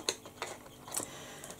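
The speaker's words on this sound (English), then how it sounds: "I'm just going to screw the lid back on that before I knock it over" Plastic lid being screwed back onto a bottle of makeup mixing fluid, a few short, faint clicking and ratcheting turns close by.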